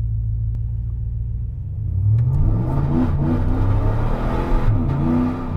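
A car engine idles low and then revs under load during a traction-control test, the rising pitch wavering and stuttering as the system cuts in, heard close with no talking.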